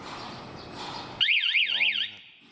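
Low background noise gives way to a loud electronic motorcycle anti-theft alarm on a Honda CBR150R, warbling rapidly up and down in pitch, then cutting off abruptly.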